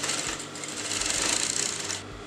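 A sewing machine runs continuously and fairly loud, stitching a square neckline on a kameez or kurti, a steady mechanical whir with no pauses.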